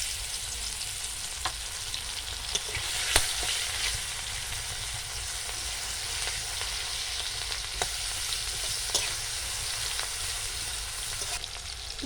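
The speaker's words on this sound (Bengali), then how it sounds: "মাছ ভাজার তেলে দিয়ে দেবো পেঁয়াজ কুচি" Chopped onions fry in oil left from frying snakehead fish, a continuous close sizzle with occasional soft pops and crackles throughout.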